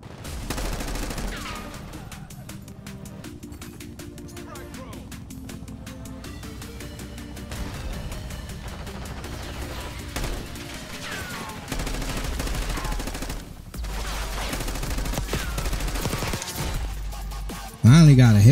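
Sustained gunfire from a Call of Duty Black Ops 6 match, steady rattling bursts running throughout with a sharp louder blast near the end, mixed under game sounds and occasional voices.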